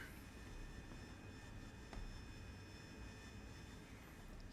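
Steady jet engine roar from an AV-8B Harrier in the DCS flight simulator, a continuous broadband rumble with a faint high whine, even and unbroken throughout.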